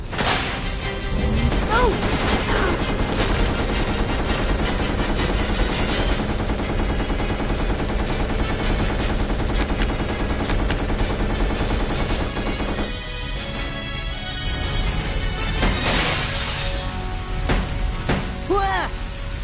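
Loud, sustained bursts of rapid gunfire in a shooter video game, dense and continuous for most of the stretch, with crashes and game voices mixed in.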